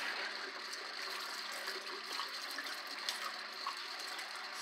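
Hot water runs steadily into and around a stainless steel tumbler during rinsing, a faint, even splashing wash with small clinks, no voice over it.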